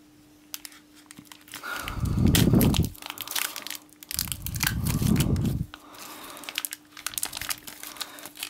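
Sealed Pokémon Diamond & Pearl deck packaging is torn and opened up close, giving two loud bursts of crinkling and crushing plastic, each about a second long, between quieter rustles and clicks.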